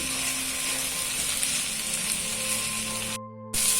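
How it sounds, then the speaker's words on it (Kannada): Tomato and onion sauté in a pan for paneer matar masala, giving a steady close sizzle and crackle throughout, with a brief drop-out near the end before the frying hiss returns. "ಇದು ಸಹ ಸ್ವಲ್ಪ ಬಾಡಲಿ. ಇನ್ನೊಂಚೂರು ಟೊಮೆಟೊ ಬಾಡಲಿ"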